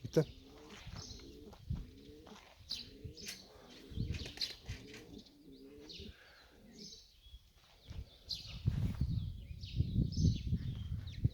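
Pigeons and chickens coo repeatedly in soft, low rolling phrases, with wing flaps and chirps around them and some rustling noise building toward the end.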